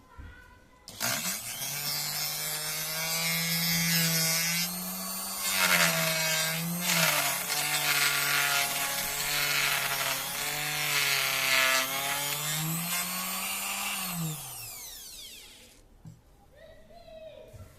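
A laminate trimmer router shaves the formica edge of a board along an oval curve, a steady loud high whine with a tonal hum that holds for about fourteen seconds, shifts slightly in pitch, then spins down near the end.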